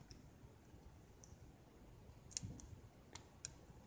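Scissors fussy-cut a clear acetate ring piece for a DIY magnetic paper clip, giving a few sharp, close snips spread over a few seconds against a quiet background.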